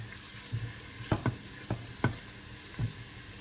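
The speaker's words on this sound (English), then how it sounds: "turn the heat up a little bit so I get a little bit of sizzling happening" Chili and garlic sizzle softly in oil in a pan, broken by a few sharp clinks and scrapes of stirring; no voices.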